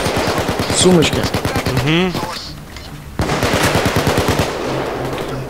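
Rapid automatic gunfire in Payday 2, bursts of repeated shots crackling close and loud, with people talking over the shooting throughout.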